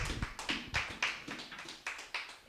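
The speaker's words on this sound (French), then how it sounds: "Est-ce que nous pouvons acclamer pour la gloire de Dieu?" Congregation applauding in church: a scattered, uneven series of hand claps and taps, a little distant and fairly quiet, with no talking.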